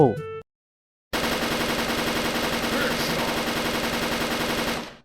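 An MP7A1 submachine gun fires in a video game, a fast, evenly spaced automatic burst lasting about four seconds after a short tone and a moment of silence.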